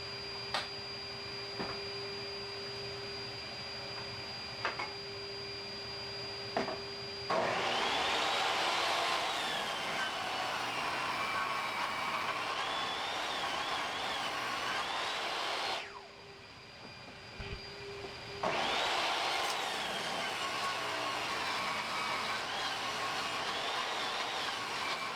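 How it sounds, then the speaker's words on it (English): A table saw rips a 2x4 lengthwise into 2x2s, the motor humming at idle before two long, loud cutting passes that rise into a strained whine, separated by a brief return to idle. "For the 35 inch part, put your blade to its thickness, then rip 2 2x2s, discard the rest."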